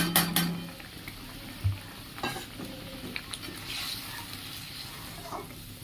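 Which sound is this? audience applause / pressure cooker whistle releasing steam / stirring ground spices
stirring ground spices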